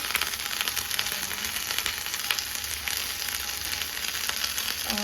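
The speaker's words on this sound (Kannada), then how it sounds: "ಗ್ಯಾಸ್ ಸ್ವಲ್ಪ ಇವಾಗ ಕಡಿಮೆ ಉರಿಯಲ್ಲಿ ಇಟ್ಟು ಫ್ರೈ ಮಾಡಿ" Masala-coated fish frying in a pan over a low gas flame, a steady close crackling sizzle throughout with no talking.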